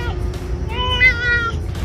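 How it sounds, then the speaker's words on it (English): A domestic cat gives one drawn-out, rising and falling meow at close range, clear over a low room hum, with no talking. "He's not just meowing the meow."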